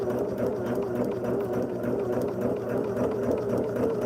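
A sewing machine stitches along a line on a New York Beauty quilt block, a steady close mechanical whirr of rapid needle strokes running without pause throughout.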